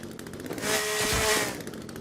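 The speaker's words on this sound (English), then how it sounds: "You can't open cases with a chainsaw." A chainsaw in the video game The Forest, rebalanced in update 0.61, revs in a single loud, harsh burst lasting about a second over steady background game noise.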